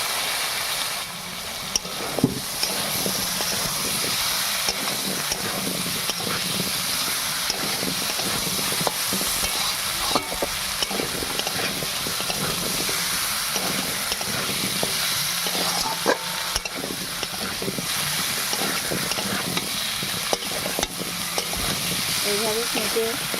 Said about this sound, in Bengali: এখানে মশলাটা ভালো করে কষানো হয়ে গেছে। আমি এবারে কেটে রাখা পেঁপে আর আলুটা দিয়ে দেবো।